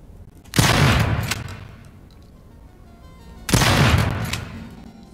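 Two loud booming gunshot bursts shooting zombies in the survival horror game Daymare: 1998, each blast followed by a rumbling decay, spaced about three seconds apart.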